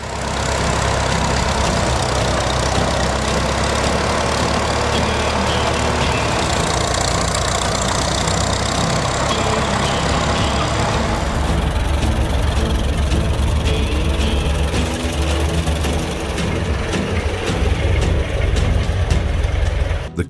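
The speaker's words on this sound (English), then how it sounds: "The Caterpillar 2-ton crawler tractor is one of the historic models from Caterpillar" A Caterpillar 2-ton crawler tractor engine runs continuously with a loud, heavy, low knocking chug that stays steady throughout, close and unbroken.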